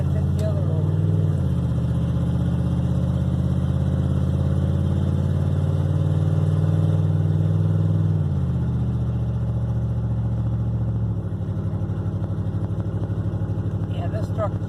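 Engine of a 1969 International cabover tow truck droning loudly and steadily along a highway, with audible gear changes as the pitch steps down and climbs again. People talk over it.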